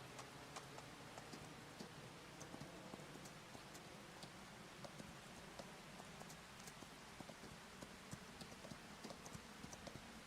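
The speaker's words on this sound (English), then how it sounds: "Riding horse." Horse hooves clip-clop at a steady, quick rhythm as a horse is ridden in a video game, faint and continuous under a constant rain-like hiss.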